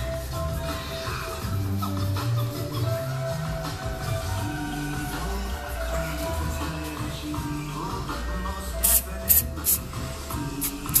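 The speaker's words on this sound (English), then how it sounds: "putting some silicone spray on there as some lubricant" Silicone lubricant sprayed from an aerosol can during a Toyota Vanguard upgrade: a steady, soft hiss held throughout at low level, with a few short louder bursts near the end.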